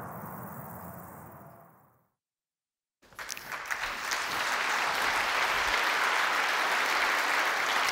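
After a brief silent gap, applause from the audience at the German Environmental Award ceremony swells up and settles into a steady, full round of clapping in a large hall.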